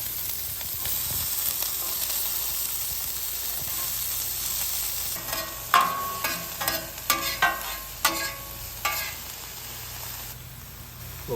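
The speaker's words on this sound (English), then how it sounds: "So I'm just going to clean this bacon grease off and then start sauteing our vegetables." Onion and pepper sautéing in bacon grease on a camping stove, a quiet sizzle building to a series of louder stirring scrapes and crackles midway.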